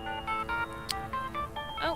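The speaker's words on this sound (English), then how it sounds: "I have a phone call." A phone rings in the video game Dreamfall Chapters, a short electronic tonal ringtone pattern repeating a few times against game sounds, with a voice briefly heard.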